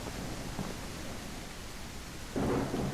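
Rain and thunder in the video game Outbreak Island: a steady hiss of rainfall throughout, swelling into a louder rumble near the end, with no voices.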